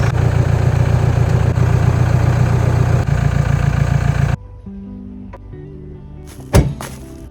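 A serviced car engine runs at a steady, loud idle after start-up, then cuts off abruptly, leaving a quiet space with a brief knock or clunk near the end.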